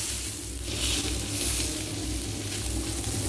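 Steady, crackling sizzle of a smash burger patty frying on a hot grill, continuous and close, with no voices.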